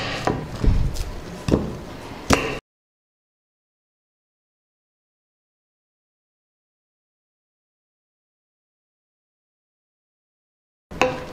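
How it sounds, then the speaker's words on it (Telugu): An onion is chopped with a knife on a board for thotakura pakodi: a few sharp, close chops in quick succession for about two seconds, then silence. "ఇప్పుడు ఉల్లిపాయ కట్ చేసుకుందాం."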